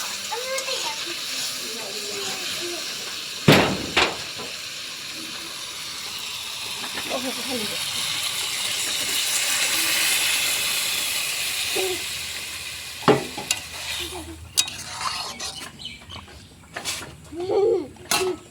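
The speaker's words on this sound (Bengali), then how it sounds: "এখন পরিমাণ মতো আমি জল দিয়ে দেবো।" Water poured into a pan of sizzling vegetable curry of potato, drumstick, ridge gourd and lentil dumplings gives a loud burst of hissing steam that settles to a softer simmer, with a few sharp clanks of utensils later on.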